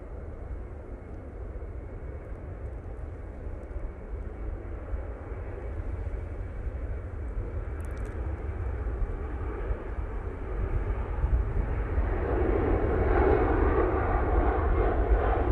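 An airliner takes off from Manchester Airport bound for Milan, a broad steady engine roar that grows gradually louder, heard from a distance with no talk.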